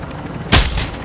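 One sharp, loud gunshot cracks out in a video game firefight, a single close report with a brief ringing tail and no voices over it.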